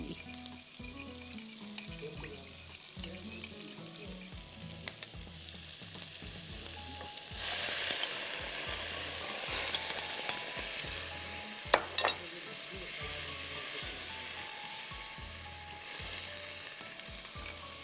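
Vegetables and garlic sizzle and fry in a pan while being stirred, then a sauce mixture goes in and a louder rush of sizzling follows for a Mongolian beef dish, steady and close with occasional utensil clinks.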